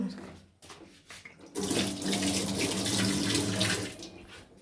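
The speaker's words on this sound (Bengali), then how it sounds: "আমি একটু হাতটা ধুয়ে আসি।" A tap gushes steadily into a sink as hands are washed, a close, continuous splashing stream that starts after a few quiet knocks and runs for several seconds.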